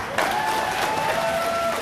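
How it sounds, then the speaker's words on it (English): An audience at a televised gubernatorial debate breaks into applause, a dense wash of clapping that stays steady and fairly loud. "I just want to remind the audience to please hold your applause"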